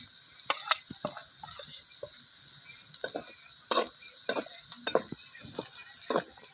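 Chili powder and boiled potatoes fry in oil with a soft sizzle, while a spoon stirs and scrapes the pan in short irregular bursts, close and fairly quiet.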